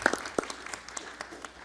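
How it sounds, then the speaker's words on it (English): Brief, thin applause from an audience for the panelists at a business journalism evening: scattered hand claps sounding moderately close, tapering off quickly within a couple of seconds. "Another big round of applause for our fantastic panelists."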